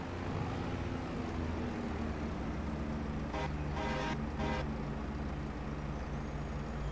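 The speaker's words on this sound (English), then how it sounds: "looks like we got another farmer going by in his loud truck" A loud truck drives past on a British road in a farming video game, giving a low steady engine drone with a short burst of horn-like toots partway through.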